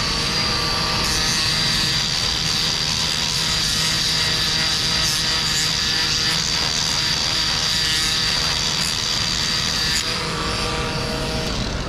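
A roll-lock abrasive disc, similar to Scotch-Brite, spins on a rotary tool in a shop rebuilding a Case 580 Super E shuttle, giving off a constant loud high-pitched whine and grinding rasp for the whole stretch.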